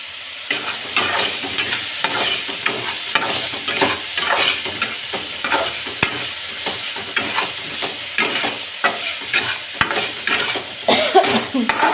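Bitter gourd (kakarakaya) pieces frying in a hot pan, a steady dense sizzle broken by repeated stirring scrapes and clinks throughout, close and fairly loud with no voices.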